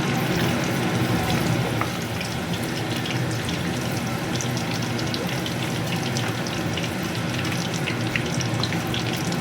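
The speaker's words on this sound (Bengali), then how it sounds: "পাঁপড়গুলো একটু ভেজে নিই" Dense, steady crackling sizzle of papad frying in hot oil, loud and continuous throughout.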